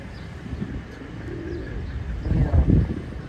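A male pigeon-like bird gives low, soft cooing calls, repeated in a loose rhythm and growing stronger toward the end, close by against faint outdoor background noise.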